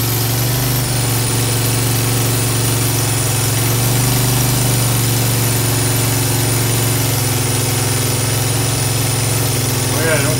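A 2005 Honda Foreman 500 ES 4x4 ATV engine runs steadily at a loud, close idle-like drone throughout, with a constant low mechanical hum and vibration.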